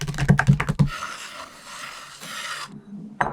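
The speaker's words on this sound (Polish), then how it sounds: "Pokrój drobno ciemną czekoladę" A knife chops dark chocolate rapidly on a board in a quick burst of sharp cuts, followed by a softer scraping, rasping sound and a final knock.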